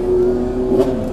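A Toyota Crown taxi engine in Osaka revs briefly up close, a loud steady hum that swells and dips within a second.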